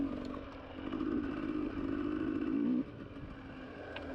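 A dirt bike engine revs hard for a couple of seconds while riding over an obstacle, a buzzing drone that rises and then cuts off abruptly, with quieter idle afterward.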